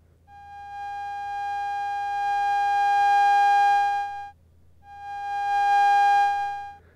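Pure electronic tone from a Therevox ET-4.2 with its volume set by a press button, swelling up and fading in two long held notes separated by a brief dip, clear and alone.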